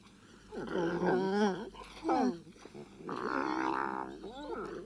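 Several seven-month-old wolves let out high wavering whines and howl-like yelps in short bursts, close by, with growly undertones between calls.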